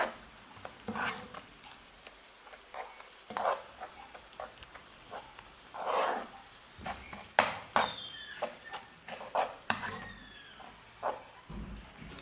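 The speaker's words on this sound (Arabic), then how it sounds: "نخلط كل شيء مع بعض" A spoon stirs a thick sauce of spices, garlic and canned tomatoes in a pan for shakshuka with eggplant, giving close, irregular scraping and wet squelching strokes with short pauses between them.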